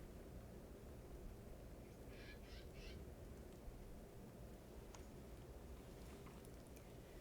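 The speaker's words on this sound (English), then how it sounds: "that's just a bird outside my window" A bird calls a few times outside a window, faint and distant, short repeated notes under a steady hiss of background noise with no talking.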